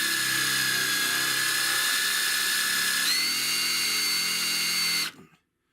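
A power drill runs steadily into car body metal during rust hole repair on an inner rear quarter wheel well, a loud continuous whine that steps up in pitch midway before cutting off abruptly.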